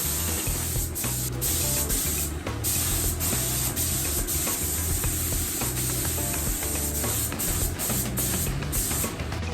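A spray gun lays clear coat on a Moto Guzzi fuel tank during a restoration, giving a continuous close hiss. Brief pulses and short breaks mark the trigger passes, with no voices.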